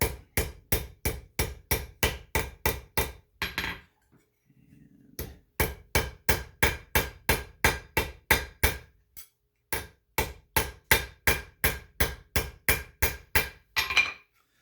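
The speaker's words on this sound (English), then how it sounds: "We have to be careful if we hit it too hard that piece is going to start to curl this way, so we're not hitting it real hard." A metal armring being hammered and tapered on an anvil with moderate blows, dozens of sharp ringing strikes in quick, even runs broken by a couple of short pauses.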